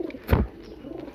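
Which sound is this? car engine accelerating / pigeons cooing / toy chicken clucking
pigeons cooing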